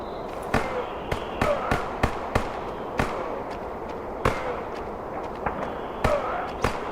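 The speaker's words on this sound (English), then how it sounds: "Looks like they're shooting each other" Scattered sharp cracks of gunfire in the zombie survival game The Day Before, irregular single shots spread over several seconds at moderate distance, alone with no talk.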